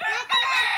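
A chicken being slaughtered in a rural province lets out a brief, loud squawking cry, split by a short break, lasting under a second.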